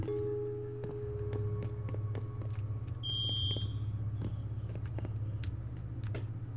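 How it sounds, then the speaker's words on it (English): A base alarm sounds in the Rust video game, a brief high electronic tone near the middle over a steady low engine-like rumble, with scattered sharp clicks. "if someone's in front there, it sets off the alarm."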